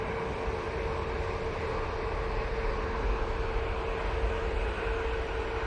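An easyJet plane at Manchester Airport produces a steady, moderately loud engine drone with a constant whine, unbroken and without speech.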